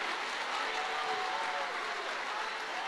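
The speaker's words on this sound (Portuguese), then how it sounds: "Se é para aplaudir, aplaude com vontade" Church audience applauding at a sermon, a steady dense wash of clapping held at an even, moderate level throughout, with no distinct voice standing out.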